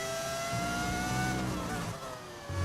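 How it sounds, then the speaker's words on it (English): V10 race car engine in the F1 25 game, a high, harmonic-rich whine revving and holding pitch near the listener, dipping briefly before picking up again. "What does this engine sound? It's a V10."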